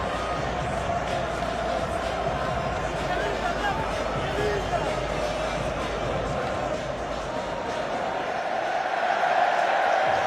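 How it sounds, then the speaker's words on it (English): Stadium crowd at Wembley during a Manchester United cup final, a dense, continuous roar of cheering that swells toward the end, with a commentator's voice running over it. "A great cheer greets the sight of Sir Alex Ferguson on the Wembley screens."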